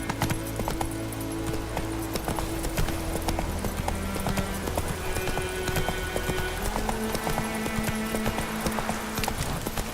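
Hooves clip-clop steadily as a horse is ridden in The Witcher 3, a brisk, loud rhythmic trot running throughout with the occasional snort.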